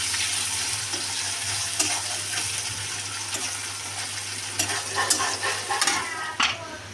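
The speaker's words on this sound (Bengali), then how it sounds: "পেঁয়াজটা লাল লাল করে ভেজে নেব।" Onions frying in oil in a pan for a Bengali tilapia fish curry, a steady close sizzle with occasional stirring clicks and scrapes of a utensil against the pan.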